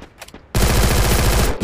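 A shotgun in a video game fires a sudden burst of rapid, loud blasts that start abruptly after a moment of quiet and run continuously for about a second before stopping.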